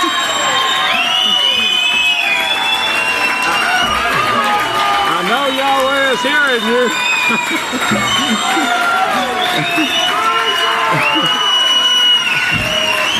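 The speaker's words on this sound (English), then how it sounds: "Wow, what a lively crowd we got here today." A lively Sabbath service congregation at the Great House of Yahweh keeps cheering, whooping and shouting in a loud, continuous roar while someone speaks over the crowd.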